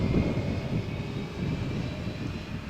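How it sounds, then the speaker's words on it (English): Airbus A320-232 of British Airways Euroflyer at Malaga Airport on a stormy morning, a steady broad roar of engine noise that stays loud and even throughout with no talking. "Let's focus on British Airways Euroflyer. Flight from Malaga to London Gatwick, Airbus A320 232."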